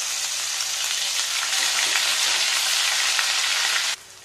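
A ground spice paste hits hot oil already seasoned with cumin, a pinch of asafoetida and curry leaves, giving a loud, steady, close sizzle that holds evenly and cuts off abruptly near the end.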